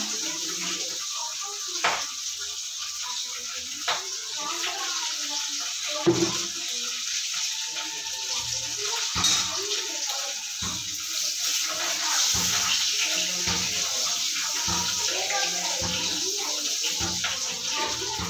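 Tengra fish frying in hot oil crackle and spit continuously, a dense close sizzle with scattered sharper pops of splattering oil, steady throughout.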